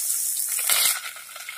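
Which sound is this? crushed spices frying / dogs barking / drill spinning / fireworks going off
crushed spices frying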